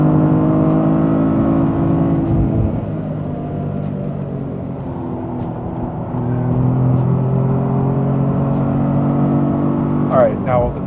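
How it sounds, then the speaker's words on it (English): A 2025 Toyota GR Corolla with an automatic gearbox on a race track downshifts with rev-matching, its engine droning loudly and swelling in pitch across the gear change, heard from inside the car with someone talking over it. "Rev matching on to third,"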